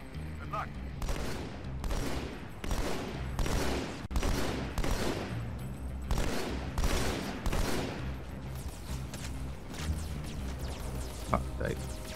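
Bursts of gunfire from Halo 2 on the Outskirts level crackle in repeated volleys, some rapid and sustained, others single shots, loud and close, fading to scattered shots near the end.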